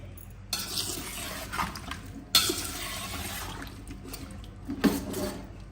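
Pickle ingredients for a mixed achaar are stirred in a pot, with soft scraping and swishing strokes punctuated by a few louder clanks of the utensil against the pot, close and fairly quiet.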